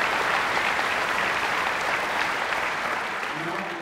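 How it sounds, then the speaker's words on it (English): An audience at an MLK Jr. community service awards evening with The Cleveland Orchestra applauds its honorees, a steady, full roomful of clapping that holds at even loudness throughout and tapers slightly at the close. "please join me in giving all of our honorees another round of"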